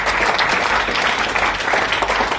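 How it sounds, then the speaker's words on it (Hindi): A room of attendees at a hotel guidance session claps together, a dense, loud and even burst of applause that holds steady throughout with no break. "तो एक तालियां मार लें लास्ट में एक बजे।"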